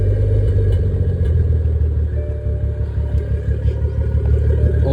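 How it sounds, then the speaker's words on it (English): BMW 340i with a manual gearbox, running an open dump through a 6-inch catless downpipe, gives a loud, deep, continuous exhaust rumble with rough idle-like pulsing, close and steady with no speech. "So I'll play you some sound clips now of what it sounded like just open dump."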